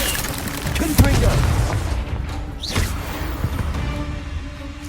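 A Confringo spell explosion in Hogwarts Legacy, a single sharp boom near the start that trails into a rumbling decay, followed by a softer second burst amid ongoing game sounds.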